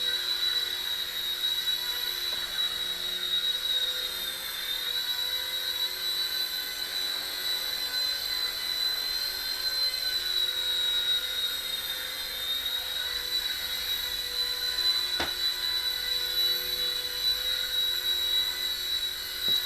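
A Silverlit Spy Cam II toy RC helicopter flies continuously, its small motor and rotor giving a steady high-pitched whine with slight wavering, nearby and unbroken apart from one brief click.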